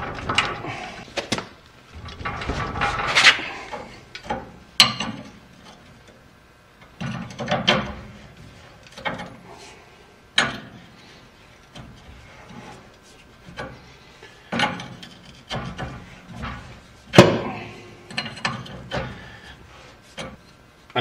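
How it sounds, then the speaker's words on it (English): Tools work loose a threaded shock absorber bushing on a 1939-1948 Chevrolet lever-type shock absorber, giving close, intermittent metallic clicks, clunks and scrapes in irregular bursts with quiet gaps, and no talking. "I'm going to remove this threaded bushing"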